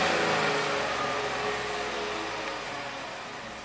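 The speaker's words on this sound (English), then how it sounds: "Let's rev it up." A Chevy engine with a misfire and low fuel pressure fault runs at a raised idle after a rev, a steady close mechanical drone that slowly eases down.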